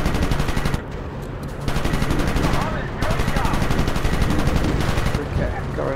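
WW1 fighter planes in the Warplanes game rattle out long bursts of machine-gun fire, loud and continuous with brief gaps, while a voice talks over the shooting.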